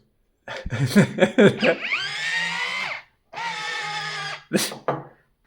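A small portable AliExpress juicer motor tries to run, giving a strained harmonic whine that rises in two sustained bursts with a short gap between them, preceded by a stretch of voices and laughter.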